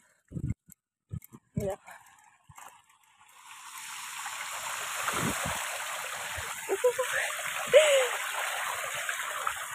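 Wading through flood water that has swamped ponds, with sloshing splashes building into a steady watery churn after a few sharp knocks and bursts at the start; voices are heard briefly near the end.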